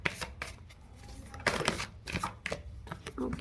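Tarot cards are shuffled and drawn by hand in quick, close, crisp rustling bursts with short pauses between them.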